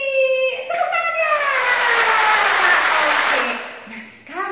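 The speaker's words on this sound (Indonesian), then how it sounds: "Tepuk tangannya." Applause from children in an Indonesian primary classroom celebrating classmates' birthdays, a dense burst of clapping that swells over several seconds and then fades, with a cheerful voice speaking at the start and a voice returning at the end.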